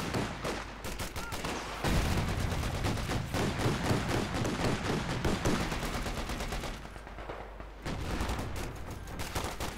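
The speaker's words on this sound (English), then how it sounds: "50 caliber firing away there" Rapid .50 caliber machine gun bursts in the Company of Heroes 2 World War II strategy game, dense crackling automatic fire mixed with other battle gunfire and explosions, loud and continuous with brief lulls, no speech over it.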